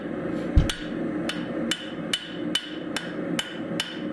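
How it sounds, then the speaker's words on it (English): Hand hammer forging thinned metal on the edge of an anvil, a sharp ringing blow followed by eight more strikes at a steady, roughly even pace, close and clear. "I'm just kind of working the edge of the anvil, and I'm trying to stretch that piece of thinned out material across the width of the anvil"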